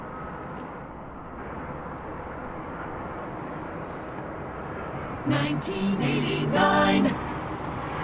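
An airliner arriving at DFW Airport at night, heard as a steady, distant jet roar that swells louder for a couple of seconds near the end while a voice speaks briefly.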